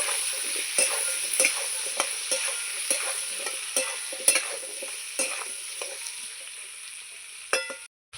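Potatoes frying in a pan with turmeric and salt, stirred with a utensil: a steady sizzle runs throughout, broken by regular scraping clinks roughly every half second, close and moderately loud, with no talking.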